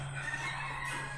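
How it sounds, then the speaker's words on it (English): Faint roosters crow in the distance over a steady low hum, a brief drawn-out call with no voices nearby. "I can hear the roosters."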